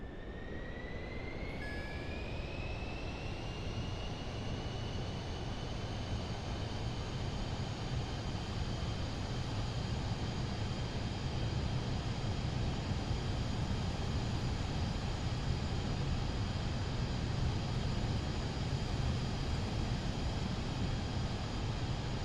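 An aircraft in Microsoft Flight Simulator 2024 career mode flies with flaps set at about 120 knots, a steady, muffled engine and airflow drone with a thin rising whine early on, even and low in level, no voices.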